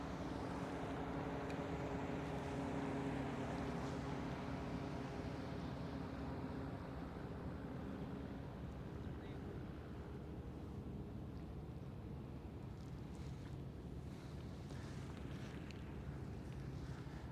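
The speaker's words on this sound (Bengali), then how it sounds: "আর এই স্পিড বোটগুলো ব্যবহার হয় এখানে" Speedboats working on the Jamuna river near the Jamuna rail bridge construction in Sirajganj, a steady broadband engine and water rumble with wind buffeting the microphone, continuous throughout with no voices.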